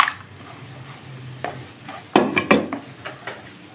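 Whole cumin, green and black cardamom and cinnamon sticks frying in hot oil in a pot, a soft steady sizzle broken by a few sharp clinks and stirring scrapes, close by with no talking.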